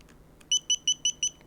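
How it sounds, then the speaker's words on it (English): A camera gimbal for a Sony A6000 emits five short, evenly spaced electronic beeps as it powers on, clear and close against a quiet background. "it beeps, and you can see that the camera is now"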